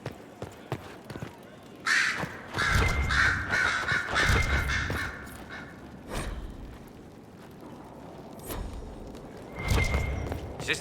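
Crows caw in several harsh bursts at the mountain fortress of Skyhold in the video game Dragon Age: Inquisition, loud and close, with quieter ambient stretches between the calls.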